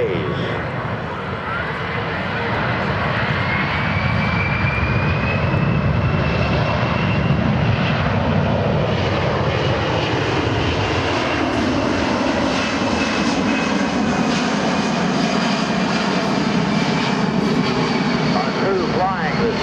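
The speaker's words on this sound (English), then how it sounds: "you can see the big C-17 flying right alongside of it" A USAF C-17 Globemaster III jet flying a demonstration at an air force base airshow gives a loud, continuous engine roar, with a whining tone that shifts in pitch as the aircraft passes.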